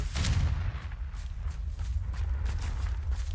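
A Confringo blasting spell in Hogwarts Legacy erupts in dense, continuous booming blasts with heavy low rumble, loud and sustained throughout without any talking.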